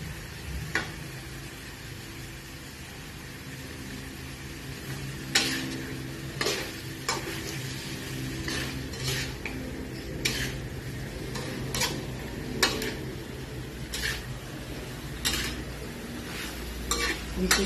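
Sarciado fish dish stirred in a frying pan, a low steady sizzle with regular scraping and clinking strokes of the utensil against the pan, close and fairly loud, no talk.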